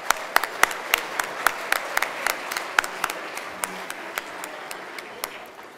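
Audience applause for the catering staff after a dinner at a public policy lecture in an arts centre: scattered, distinct hand claps from a modest crowd, crisp and close at first, then thinning and fading out over several seconds.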